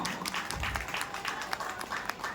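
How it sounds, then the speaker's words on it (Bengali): Audience clapping for the director of a dance drama at a Rath Yatra cultural program, a fairly faint, steady patter of many hands that continues evenly throughout. "একটু জোরে করতালি হয়ে যাক ওনার জন্য"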